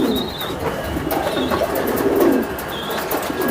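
Racing pigeons coo repeatedly in a dense, overlapping murmur, close and continuous, like a crowded loft full of birds.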